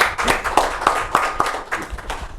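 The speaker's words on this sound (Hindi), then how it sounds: "तो एक बार जोरदार तालियां हो जाए डॉक्टर प्रकाश जी के लिए।" Audience applause for Dr. Prakash Chajjer at a Rajasthan Parishad event, a short burst of rapid, moderately loud clapping from a modest crowd that stays steady before tapering slightly.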